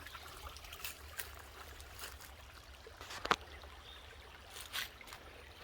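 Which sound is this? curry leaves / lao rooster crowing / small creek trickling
small creek trickling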